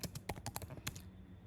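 Rapid clicky keystrokes on a computer keyboard, a quick uneven run of about a dozen close taps, then a pause with quiet room tone.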